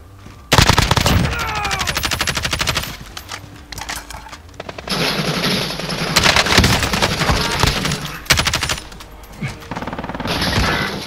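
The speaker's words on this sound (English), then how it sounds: "We're getting shot from the right." Dense, loud video game gunfire: sustained machine-gun bursts with overlapping rapid shots and brief lulls, mixed with other battle noise and no clear speech.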